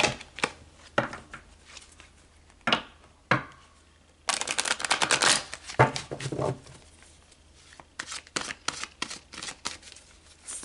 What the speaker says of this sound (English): So let's pull some more cards and go deeper.